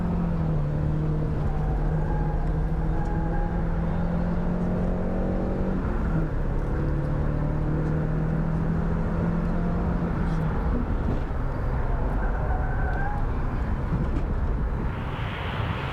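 A Peugeot 205 1.6 GTi or Alfa Romeo Brera engine hums at moderate distance during laptiming, a steady tone with pitch shifts as it revs and settles, fairly faint under a broad background rush.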